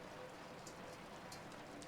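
Rain falling steadily, a faint, even wash of patter with a few brighter drops landing on a surface, constant throughout with no voices.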